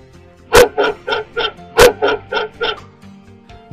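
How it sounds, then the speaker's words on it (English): A cartoon dog barks repeatedly on a bridge in an animated fable, two loud sharp barks each followed by a run of three quicker, softer yaps, close and clear with no talking. "He barked at the dog."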